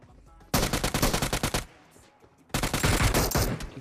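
Two long bursts of rapid M249 machine-gun fire in a shooting video game, loud and close, separated by a short quiet gap.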